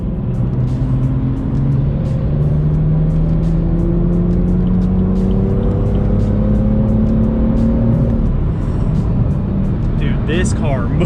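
A BMW F87 M2's engine pulls hard, its pitch climbing steadily through long gears, loud and close, with wind and road roar around it.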